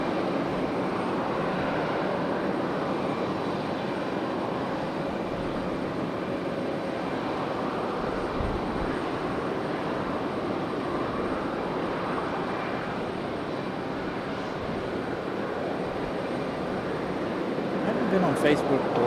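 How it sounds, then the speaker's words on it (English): A Challenger business jet arriving at Raleigh-Durham from Wilmington gives a steady, broad engine roar that holds at moderate loudness throughout and swells slightly near the end, with a voice talking over it. "So here comes our Challenger from ILM, Wilmington."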